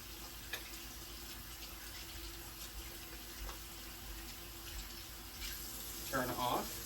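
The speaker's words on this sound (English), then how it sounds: "Rinse hands." Tap water runs steadily into a sink while hands are rinsed during hand washing, a faint continuous hiss with light splashing that grows slightly near the end, while a voice speaks over it.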